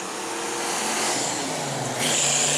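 Mustang and GMC race cars pulling away at the green flag in a spectator match race at New Smyrna, a loud roaring engine rush that swells and climbs in pitch.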